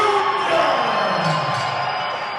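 A crowd at an MMA fight night roars and cheers for a fighter during his introduction, a loud, sustained wash of shouting voices.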